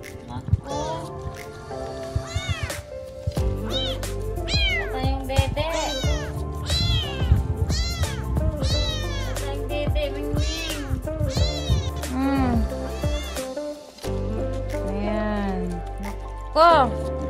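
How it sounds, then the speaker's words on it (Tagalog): A white stray cat meows repeatedly in a run of short, rising and falling cries, close and clear. A person speaks softly around the calls, and background hum continues throughout. "May ligaw na naman pusa dito."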